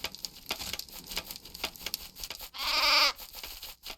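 A sheep bleats once in the video game Craft the World, a loud wavering cry rising above busy game background sounds and patter.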